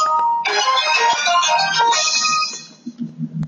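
A phone ringtone for an incoming call trills loudly and repeatedly in a steady electronic pattern for about two and a half seconds, then stops as quiet voices take over.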